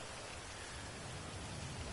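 Steady rain hisses faintly and evenly throughout, a soft continuous patter with no voices over it.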